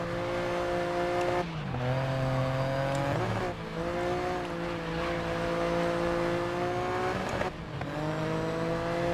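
Engine roar of an open-wheel race car in the racing video game GRID Legends, loud and sustained with revs rising and dropping through gear changes and some tire squeal as it drifts, no voices.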